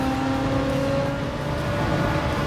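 Race car engine in Gran Turismo 7 drones loudly and steadily, its pitch stepping as gears are shifted down, with a continuous close mechanical whine and no voices.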